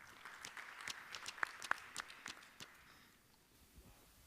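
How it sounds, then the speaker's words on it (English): Brief, fairly faint applause from a pitch-session audience at a cybersecurity startup event, scattered claps over about three seconds that thin out and fade to quiet. "So let's have a round of applause."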